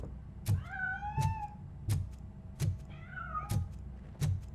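A cat in the Robocop: Rogue City video game meows twice in long rising-falling cries, heard over regular heavy mechanical footsteps and a low ambient hum.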